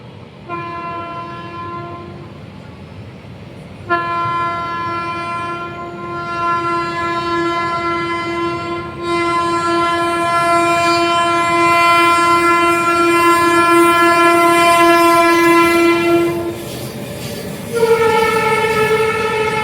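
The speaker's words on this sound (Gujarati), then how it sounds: "સામે રેલવે સ્ટેશન છે." A train passes Palanpur railway station, seen from a public footbridge, sounding several long, loud horn blasts over a steady rumble of rolling wheels and carriages.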